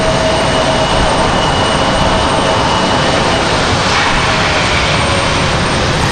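An airliner at Raleigh-Durham International Airport roars steadily on the runway, a loud, continuous broadband jet engine rumble that holds without pause, with no voices over it.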